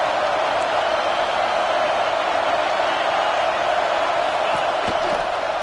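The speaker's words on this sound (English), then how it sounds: "Decibels rising as the crowd gets behind this defense on 3rd down." Dense, continuous roar of a stadium crowd cheering at a football game on third down, a loud wall of voices holding steady throughout with a faint whoop or two on top.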